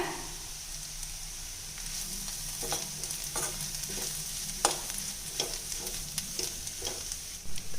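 Bitter gourd fry sizzles steadily in a pan over low heat while being stirred, a continuous moderate frying hiss broken by repeated scraping clicks of the spoon, close and without talk.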